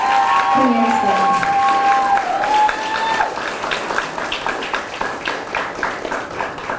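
An audience at a JROTC military ball bursts into applause for the command staff, a full, steady clatter of many hands that starts under a voice and tonal sound, then continues alone and gradually thins.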